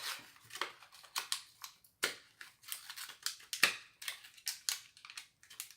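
Small pots of Pearl Lilac and Sky Blue colour are pried open with a run of sharp plastic clicks and snaps, close and crisp, separated by brief pauses.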